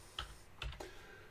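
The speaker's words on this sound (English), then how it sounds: "all we need to do is to type that" Three quick, separate keystrokes on a computer keyboard as a bootloader filename is typed to fix a VirtualBox UEFI boot error, close and fairly quiet with short gaps between taps.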